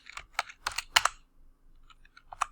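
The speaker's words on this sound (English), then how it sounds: "I'm going to type in walls, enter, and then a plus again, and then I'll type in ceiling" Keys clatter on a computer keyboard in a few quick bursts of close, crisp clicks separated by brief pauses, with no talking.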